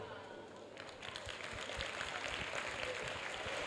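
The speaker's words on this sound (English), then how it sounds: "clap for Felicia" Applause from an audience at a motivational event for a speaker named Felicia, a steady dense patter of many hands clapping at moderate distance, swelling slightly after the first second and continuing throughout.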